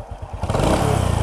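A 1999 Honda Wave Thai 110 motorcycle engine with a 1985 exhaust runs close by, a steady throbbing rumble that settles into an even idle.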